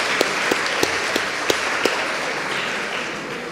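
An audience in a church breaks into applause, a dense steady clapping with a few sharper individual claps standing out, fading slightly toward the end.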